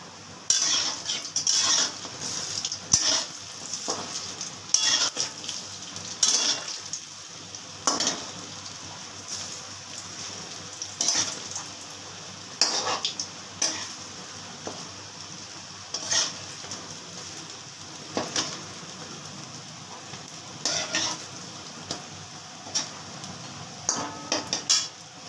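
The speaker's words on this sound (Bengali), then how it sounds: "বড়ার এক পিঠ হয়ে গেছে, এবার আমি এটাকে উল্টে দিচ্ছি।" Lentil fritters (dal bora) made with black cumin, cumin, fennel seed and asafoetida fry in a pan with a steady soft sizzle, broken by repeated clinks and scrapes of a utensil against the pan.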